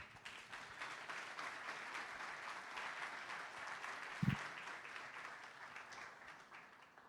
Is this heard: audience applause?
yes